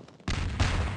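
Gunfire from a weapon in the video game Hunt Down The Freeman, a sudden loud burst of rapid, booming shots that sets in sharply after a brief quiet lead-in and keeps going to the end.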